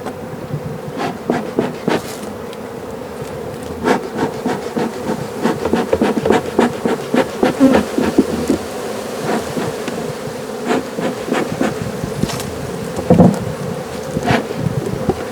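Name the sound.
bees buzzing in an open beehive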